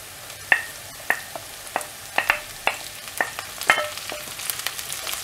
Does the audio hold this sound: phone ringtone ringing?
no